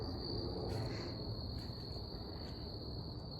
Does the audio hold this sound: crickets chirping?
yes